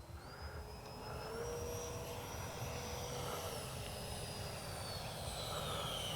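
A Freewing 64mm F-22 RC jet on its maiden flight passes on a touch-and-go attempt. Its electric ducted-fan whine rises and falls in pitch against steady broadband wind and engine noise, fairly loud throughout.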